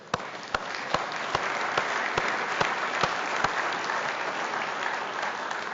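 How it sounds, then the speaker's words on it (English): An audience at a renewable fuels summit applauds steadily for several seconds, a dense wash of clapping broken by sharp, regular louder claps near the front. "let's clap really loud for Lucy"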